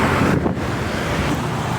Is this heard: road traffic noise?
yes